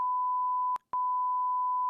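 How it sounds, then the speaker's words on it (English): A 1 kHz test tone from an audio plugin in a post-production session sounds as a steady, pure beep, briefly cut off near the middle before resuming and holding to the end. "And I should hear a little beeping sound there."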